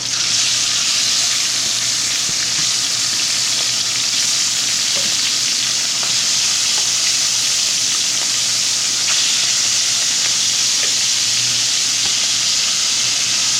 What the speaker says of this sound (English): we're at a smoking point on our oil. We're going to lay the shrimp down in here.